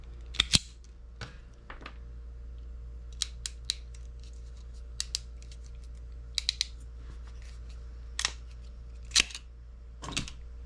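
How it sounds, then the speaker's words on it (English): Crimp connectors are pressed onto wires during a rework of a Tripp Lite RS1215 power strip for a Powercon input. Sharp isolated clicks and snaps land irregularly, close and alone over a quiet hum. "I'm just gonna crimp these on"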